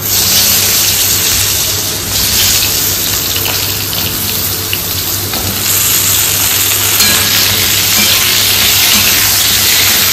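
Vegetables including potato, pumpkin and ridge gourd frying in leftover fish-frying oil seasoned with black cumin, giving a loud, constant hiss and sizzle that runs unbroken with no talking.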